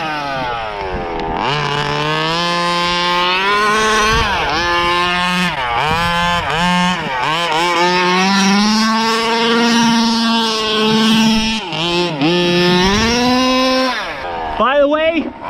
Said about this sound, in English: look how great this motor still idles with this fake 990 carb